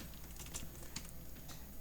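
Typing on a computer keyboard while entering a service order, with quick light clicking keystrokes in a quiet room and no voices.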